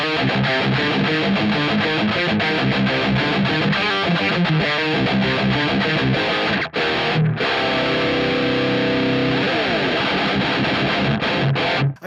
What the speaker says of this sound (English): This is just a super generic metalcore sort of thing.